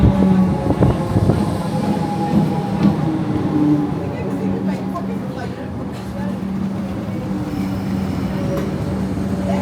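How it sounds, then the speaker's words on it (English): A Melbourne train pulls into the platform at Flinders Street, a steady low rumble and rolling rail noise filling the station with a constant loud hum, while people talk faintly underneath. "Train is coming."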